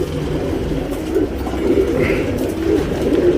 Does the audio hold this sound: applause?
no